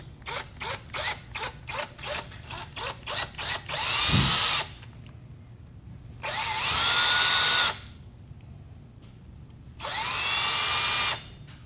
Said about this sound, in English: Take your 1/4 inch drill bit. You don't want to drill your hole too deep.